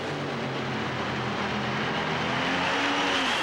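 Top-fuel drag racing cars roar loudly and continuously at the 1990 NHRA Keystone Nationals, a dense, sustained engine blast with no voices.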